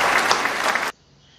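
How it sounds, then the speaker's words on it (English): A short burst of dense clapping from a small group rings out for under a second, then cuts off abruptly into near silence. "Give yourself a round of applause."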